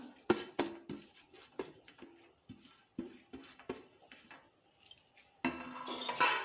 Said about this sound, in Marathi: अशी ढवळून घेता.